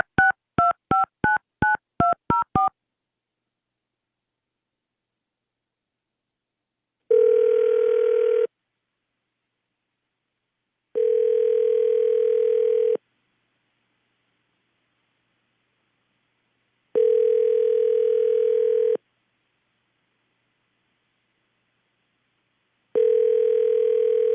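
A burst of rapid telephone keypad tones as a number is dialed, followed by four long, evenly spaced ringback tones with silence between them, clear and alone with no talking.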